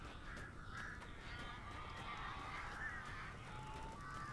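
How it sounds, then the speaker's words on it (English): A crow caws somewhere in the background of a video game scene, harsh calls heard faintly against a steady ambient wash with no talking. "乌鸦"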